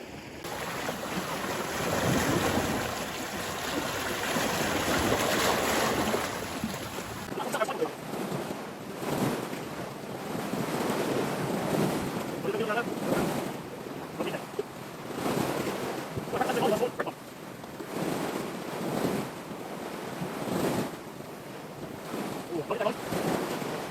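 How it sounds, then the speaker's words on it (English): Waves breaking on a rocky Guernsey shore on a dull morning, a steady loud wash of surf with gusts of wind buffeting the microphone throughout. "The waves behind me here are starting to get a little bit big."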